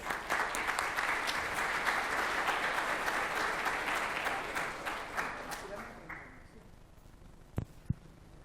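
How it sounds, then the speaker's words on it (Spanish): Audience at a regional human resources congress gives a strong round of applause, steady dense clapping that fades out toward the end, followed by a couple of sharp knocks. "Agradecemos con un fuerte aplauso su presencia."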